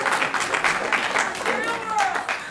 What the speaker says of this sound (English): Actually, it's not even me you should be applauding.